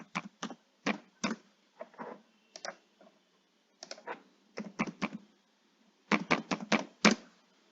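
Keys on a computer keyboard are tapped in short bursts of crisp clicks as a company name is entered, with brief pauses between clusters and no talking.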